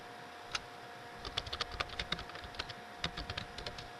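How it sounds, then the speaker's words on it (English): Someone types on a computer keyboard, with quiet irregular clicks and short bursts of keystrokes that stand apart from the steady hum of the room behind them. "Sorry if there's any typing, because I'm speaking to someone on this end."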